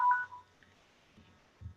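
A few short phone keypad tones beep close by as someone turns off a phone during a variance board meeting. Soft bumps and handling noise follow the beeps in an otherwise quiet room.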